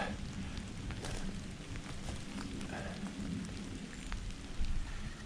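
Pouring rain outdoors on open land, a steady soft hiss of falling water with scattered drops and low rumbling underneath, fairly quiet and continuous with no talking.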